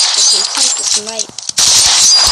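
Sniper rifle shots in the online game 1v1.LOL land as loud, sharp bursts at the start and again near the end, with a voice talking between them.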